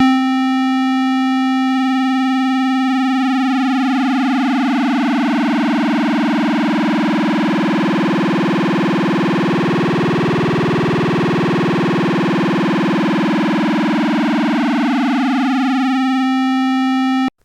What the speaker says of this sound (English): we have a square wave and we want to modulate the frequency.